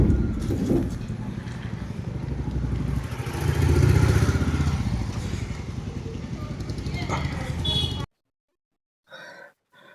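A scooter ride through Bengaluru: steady engine hum and wind rumble run loud and continuous for about eight seconds, then cut abruptly to near silence with a few brief faint sounds.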